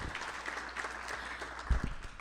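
Attendees at a community meeting in Salem applaud in a short, thin round of scattered clapping from a modest group, individual claps audible, with a louder knock near the end.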